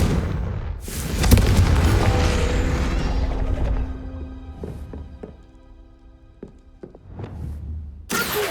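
A Confringo fire-blast spell in Hogwarts Legacy detonates with a heavy booming explosion and long rumbling decay, followed by scattered thuds and clanks under sustained in-game musical tones.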